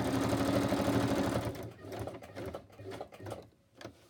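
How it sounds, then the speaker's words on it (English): Sewing machine stitching through old book page ephemera, a steady rapid mechanical rattle for about a second and a half, then stopping into quieter handling sounds and faint bumps. "I'm going to stitch down here."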